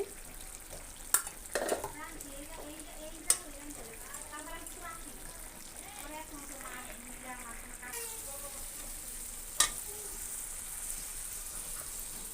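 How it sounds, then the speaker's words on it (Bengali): Dried chela fish frying in oil sizzles softly under a voice, with a few sharp utensil clinks and a brighter hiss rising toward the end. "তো আমি এখন দিয়ে দিব বাজার সুটকি এই তেলে বাজার সুটকিটা আমি দিয়ে দিচ্ছি"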